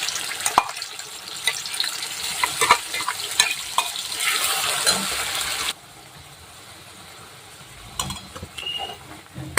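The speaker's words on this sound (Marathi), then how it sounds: "आणि आपण जो मसाला तयार केला होता तो आता त्याला छान असा परतून घ्यायचा आहे" Masala gravy sautéing in a couple of ladles of oil for a spicy bitter gourd curry, crackling loudly under repeated stirring scrapes, then dropping abruptly to a much quieter simmer with occasional clicks.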